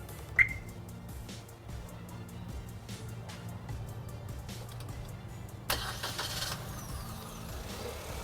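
A Caoa Chery Tiggo 3X turbo engine starts remotely from the key fob: a chirp, a stretch of quiet mechanical clicking and humming, then the engine catches at about 5.7 seconds and settles into a steady idle.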